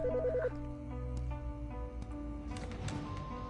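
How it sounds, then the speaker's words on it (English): A phone in a video game rings with a short warbling electronic tone at the start, followed by quiet ambient room sounds and faint knocks and clicks. "The fucking phone."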